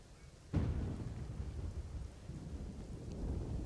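A sharp thunderclap opens a heavy monsoon downpour in Ahmedabad. After it, dense rain roars steadily and fairly loud, with no voices.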